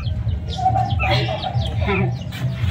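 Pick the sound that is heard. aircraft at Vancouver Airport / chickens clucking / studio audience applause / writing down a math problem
chickens clucking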